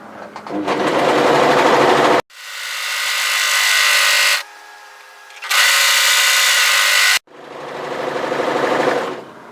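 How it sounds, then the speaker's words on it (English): An overlocker serges around the edge of a garment in three bursts of loud, whirring stitching separated by short pauses, close up and with no talk. "We're going to overlock around the garment"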